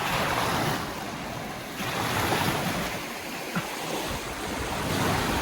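Waves wash steadily onto a shore in a broad, continuous roar that swells and eases gently, with no voices.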